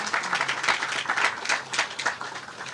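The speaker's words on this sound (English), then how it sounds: "Round of applause for our city staff, everybody." Audience at a downtown San Diego affordable housing groundbreaking applauds for city staff, with moderate, uneven clapping that swells and dips across a few seconds outdoors, without speech on top.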